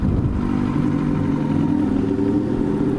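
Motorcycle engine rumbling steadily up close while the rider shifts down and brakes, a continuous low throbbing drone with no clear breaks.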